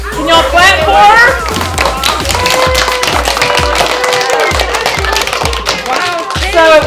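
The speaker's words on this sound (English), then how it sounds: "Can y'all clap for her?" A small audience at a school grant award surprise claps together, a loud close burst of hand claps over a steady rhythmic thumping beat, with excited voices talking and cheering throughout.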